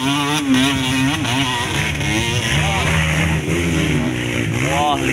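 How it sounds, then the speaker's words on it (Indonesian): Several motorcycles ride together on a tourist route up a steep climb, with engines revving and rising and falling in pitch, loud and continuous, overlapping one another close by. "sampai 30 lebih motor ieu tah"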